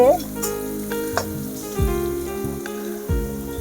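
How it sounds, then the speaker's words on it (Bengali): Onion frying in oil in a village cook's pan, a steady close sizzle with a few sharp spatula clicks and scrapes, a mostly clear tone underneath and no talk. "পেঁয়াজটা ভাজা ভাজা হয়ে গেছে"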